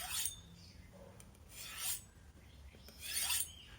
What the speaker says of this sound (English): sharpen into the cutting direction